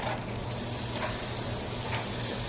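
Butter sizzles steadily in a hot frying pan between batches of banana pancakes, a constant close, dense hiss with no pauses.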